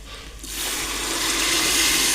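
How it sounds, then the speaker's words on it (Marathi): Water poured from a glass into a pan of rice and peas that has been stir-fried in oil, a short pause and then a steady, close gushing splash that carries on for about two seconds with no talking. "त्याच्यानंतर त्याच्यात टाकायचं पाणी."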